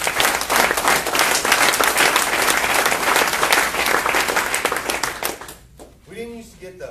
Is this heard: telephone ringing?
no